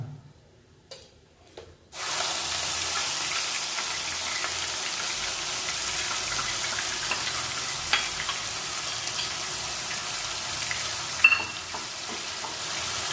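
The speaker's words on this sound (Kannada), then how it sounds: "ಈಗ ಶುಂಠಿ, ಬೆಳ್ಳುಳ್ಳಿ ಮತ್ತು ಈರುಳ್ಳಿ ಮಿಕ್ಸ್ ಮಾಡ್ಕೊಂಡಿರೋದು" A ginger, garlic and onion mix, added to hot cumin in a pan for a spicy mushroom curry, hits with a few clinks and then sizzles steadily and loudly, with faint stirring scrapes.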